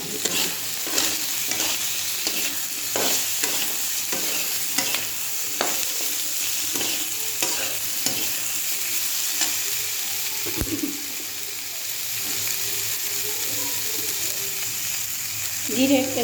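Chopped tomato sizzling and frying in a pan while being stirred, with a steady hiss throughout and repeated scraping strokes of the spoon, close and fairly loud, no talking.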